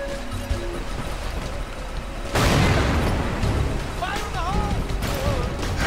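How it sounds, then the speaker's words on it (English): Grenade blast in Tomb Raider: Legend, set in a Ghana level: a sudden loud boom about two seconds in, followed by a rolling crackling tail and debris over background game sound, with a voice chirping briefly near the end. "Oh, and maybe throw a grenade."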